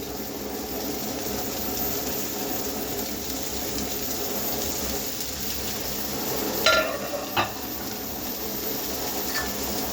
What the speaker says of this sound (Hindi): अब मैंने सब सब्जियां एक साथ डाल देनी है, गाजर, फूल गोभी, बंद गोभी और ये शिमला मिर्चें